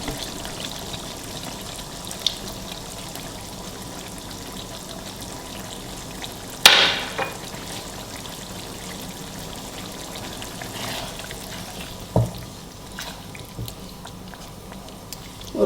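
Tamarind pulp with the seeds removed is added to sweet and sour chicken cooking in a pan, giving a soft plop and splash midway over a low, steady sizzle, with a few small clicks later.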